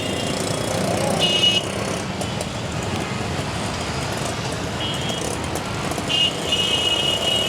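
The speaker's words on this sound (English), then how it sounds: "But I do mind the traffic." Busy city street traffic in India heard on foot, a continuous rumble of engines and passing vehicles with brief bursts of horn-like tones, moderately loud and steady.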